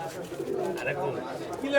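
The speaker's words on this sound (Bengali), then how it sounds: "এই যে আমাদের এক মামা নাসির মামা এক খাঁচা কবুতর কিনতেছে।" Pigeons in cages at a busy pigeon market at Saruliya, soft cooing and calls close by under people talking.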